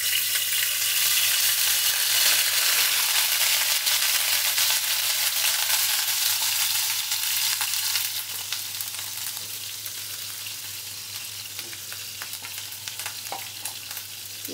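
Onion paste for mustard hilsa frying in a pan, a loud, dense sizzle that runs continuously and eases to a softer crackle about halfway through, with no voices.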